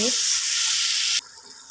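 Beef sizzling loudly in a pan with no added oil, a dense steady frying hiss that cuts off abruptly near the end to a faint residual sizzle.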